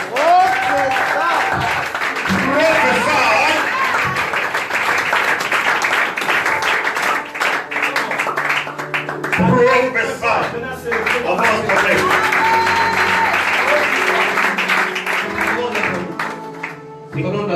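A church congregation claps and cheers through a lively worship service, with dense sustained applause and shouting voices carrying under and between a preacher speaking in French.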